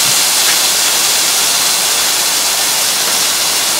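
Smash burgers sizzle on a hot Blackstone griddle, a loud, steady broadband hiss that runs unbroken and close throughout with no talking.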